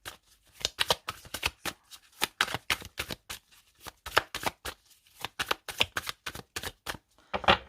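Tarot cards being shuffled by hand, a rapid run of crisp papery riffles and slaps in irregular bursts, close and fairly quiet with no talking.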